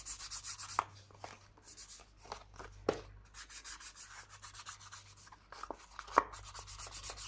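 Ink is dabbed and rubbed along paper edges for craft embellishments, giving a steady run of soft, close scratchy rubbing strokes with a few sharper taps and no voices.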